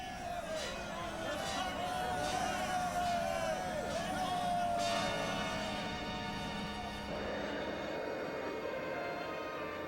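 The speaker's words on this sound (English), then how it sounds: "Even as Chiron's troops cheer their bloodthirsty leader" Troops of the bloodthirsty Zentradi leader Chiron cheer in an animated series, a dense crowd roar and chatter filling the clip under music and a falling whine, with no clear words spoken.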